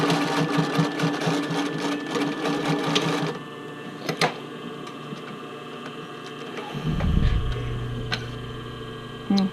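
Close and loud, a sewing machine stitches bar tacks on a bra fitting band in a steady rapid run, then pauses, followed by a brief click and a low mechanical hum.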